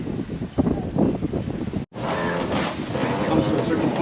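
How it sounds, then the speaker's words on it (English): Strong wind buffets the microphone on the Lake Superior shore overlooking Chequamegon Bay on Madeline Island, a steady rough roar with a brief dropout around two seconds before the gusting resumes. "Very windy out here."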